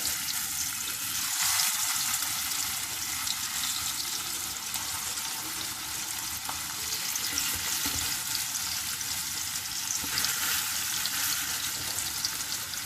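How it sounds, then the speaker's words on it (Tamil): Parai fish shallow-frying in hot oil in a pan, a steady, loud, dense sizzle and crackle running throughout with no talking. "இப்போ நான் ஃபிஷ்ஷை போட போகிறேன். நான் ஷாலோ ஃப்ரை தான் பண்ணுறேன்."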